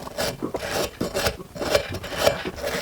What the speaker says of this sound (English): I'm just scraping it. I'm just wire brushing it down.